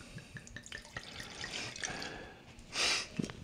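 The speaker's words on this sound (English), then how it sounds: "So I'm gonna give it a slight rinse." Water runs into a glass to rinse out red wine residue, with scattered drips and splashes and a short, louder pour of water near the end.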